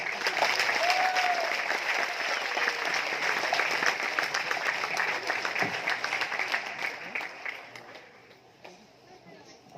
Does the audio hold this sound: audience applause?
yes